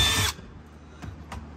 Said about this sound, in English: We'll go ahead and drill this in.